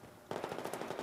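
An MG4 machine gun fires in Battlefield 4, a sudden rapid burst of about ten close, loud shots in fast even rhythm after a brief quiet moment.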